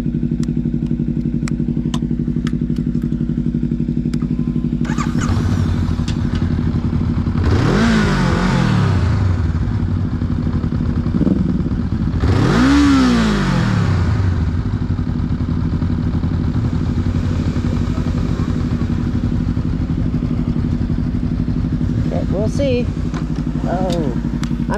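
A motorcycle ridden in second gear gives a steady engine drone throughout, with two rising surges as it accelerates. A rider talks over the engine.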